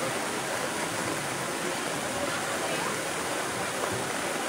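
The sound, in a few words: rushing floodwater after heavy rain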